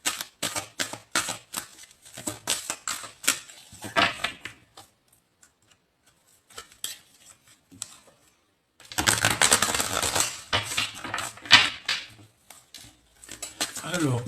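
Tarot cards are shuffled in quick bursts of riffling and slapping, close by, with a quiet pause in the middle before a longer, denser run of shuffling.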